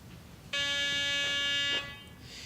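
A Garrett PD6500i walk-through metal detector sounds its alarm on a handgun, a single steady electronic buzz lasting just over a second, clear and close against a quiet room.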